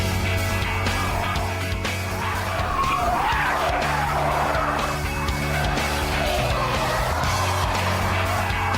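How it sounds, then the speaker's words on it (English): Saloon car skidding and spinning out on a test track, loud sustained tyre squeal rising and wavering over engine noise, close by, without talk. "And even when I drove the saloon faster and faster, all it would do was spin."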